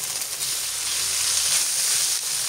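Herring sizzles in a pan of melted butter and olive oil. The frying hiss is steady, close and loud, with no talk over it.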